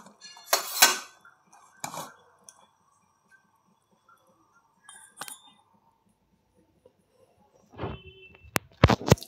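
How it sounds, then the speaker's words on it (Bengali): A metal wok being set onto a kitchen stove: several sharp metallic clanks and scrapes at irregular intervals with quiet gaps between, ending in a cluster of bright ringing knocks, close and fairly loud. "এইবার এই যে কড়াই বসিয়ে দিয়েছি"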